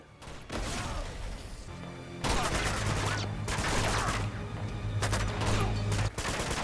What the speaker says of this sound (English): I can minimize the amount of shots fired by shooting the propane tanks